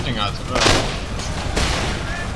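Battle din from Empire: Total War, with muskets and artillery booming in dense, overlapping bursts, two louder blasts standing out above a steady rumble while a voice talks over the fighting.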